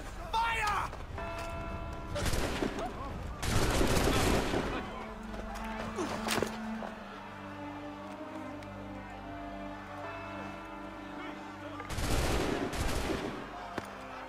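Volley of musket gunfire in the Assassin's Creed 3 video game, loud bursts of massed shots early on and again near the end, with game sounds and voices around them.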